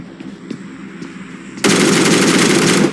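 A rapid burst of automatic gunfire in the mobile shooter BGMI / PUBG Mobile erupts loud and close after quieter background game sounds and sustains for over a second without any talk.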